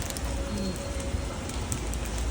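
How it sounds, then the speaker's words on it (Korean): Steady rain falls outdoors as a continuous soft hiss with faint patters, with no talking over it. "비가 오네."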